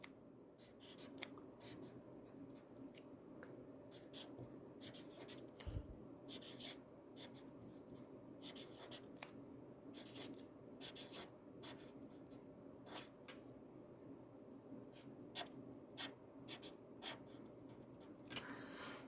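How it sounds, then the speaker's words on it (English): A marker squeaks and scratches across a board in short strokes and taps, quiet and close, with no voices. "I'm going to stick a marker here to show you. So I'll write it over here thicker."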